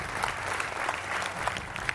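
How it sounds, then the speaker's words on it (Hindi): A studio audience on a Hindi TV political debate show applauds to welcome a guest. The clapping is brief and steady, with scattered individual claps standing out from the crowd. "तालियों के साथ स्वागत कीजिए"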